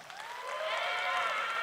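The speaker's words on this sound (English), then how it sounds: "can I hear a big round of applause?" Crowd noise rises through a brief stretch in a hall at a phone launch event, with smeared tonal streaks and some vocal cheering rather than distinct claps; it swells and holds at a moderate, slightly distant level.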